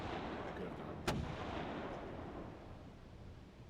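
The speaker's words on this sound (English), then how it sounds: "Gunfire off the starboard bow!" A single sharp gunshot-like report cracks out at sea, then fades into a long rumbling decay, with one more faint burst right at the end; it heralds a naval battle early in the Great War.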